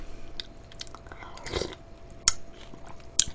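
Close, soft chewing and biting of cold raw fish soup mixed with rice, with moist mouth sounds and a couple of sharper crunchy bites, no talking.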